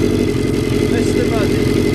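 A Kawasaki Ninja sport bike with a Muzzy exhaust idles close by, giving a deep, steady, pulsing engine rumble that stays level throughout the short stretch.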